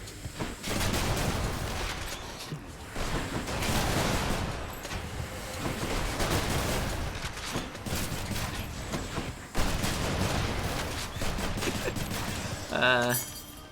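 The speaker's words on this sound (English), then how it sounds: "So we do be causing explosions." Rapid bursts of weapon fire and booming Cluster Bomb explosions in the game Hades crackle continuously, dense and loud, with a short electronic chime near the end.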